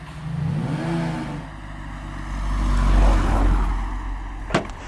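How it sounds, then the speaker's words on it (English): A 2025 Audi RSQ8 revs up in a deep, rumbling exhaust roar, swelling to a loud peak before easing off, then a short sharp pop near the end. "and of course, black exhaust. Here's what they sound like."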